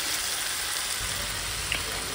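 Dhaba-style chicken is fried and stirred in a pan as kosha, making a dense continuous sizzle up close with a brief scrape of stirring and no one talking.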